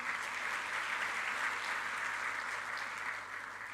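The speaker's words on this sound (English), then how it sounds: "So a big round of applause for them." Steady, moderately distant audience applause at an international chartered accountants conference in Kuwait, an even wash of many hands clapping for nearly four seconds with no voices over it.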